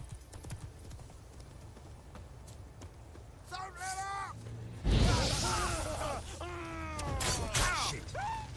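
Horse hooves clip-clopping in The Witcher 3, a steady thudding gait under game ambience, with groaning, grunting vocal sounds layered over it and a sudden louder burst midway.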